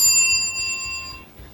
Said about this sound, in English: I like the sound of the bell